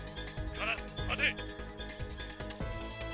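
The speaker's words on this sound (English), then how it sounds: "That alarm was not worse than the Kingdom Hearts low HP noise to me" A video game alarm in 428 Shibuya Scramble, a repeating electronic beeping tone pulsing in short bursts beneath steady background music.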